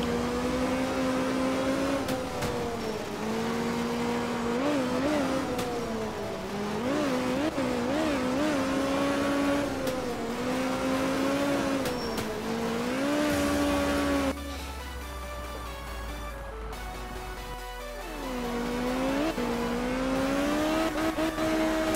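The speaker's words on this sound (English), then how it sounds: "this is my main Group B car" A Group B rally car in the racing video game art of rally revs and shifts on a dry Finnish stage, its engine pitch rising and dropping repeatedly through gear changes, loud and continuous with a brief lull midway.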